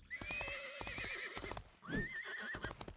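A horse in the video game Disney Infinity 3.0 whinnies in long, wavering calls over a rapid clip-clop of hooves, loud and close, with a second neigh near the end.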